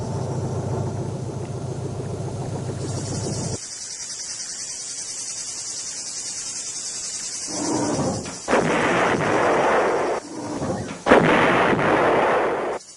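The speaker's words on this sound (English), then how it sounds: "The 130mm field gun had a range of 19 miles, further than any comparable American gun." A 130mm field gun fires in the Vietnam War, heavy booming artillery discharges with rumbling tails, several shots in succession, loud and somewhat distant, without talk.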